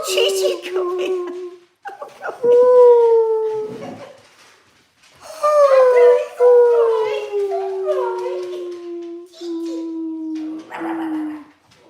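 Dogs howling loudly at close range in long, wavering rising and falling howls with brief whimpers and pauses between, the calls overlapping across several seconds.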